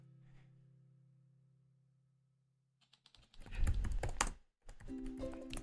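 After a quiet stretch, someone types on a computer keyboard close up, with rapid clustered key clatter, a brief pause, then another burst of keystrokes.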